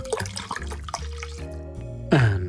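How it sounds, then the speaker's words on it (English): Orange juice poured into alcohol-free red wine for a mocktail, a brief close liquid splash and trickle rising at the end over a musical background. "Add about 250 millilitres of orange juice."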